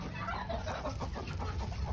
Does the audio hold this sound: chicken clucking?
yes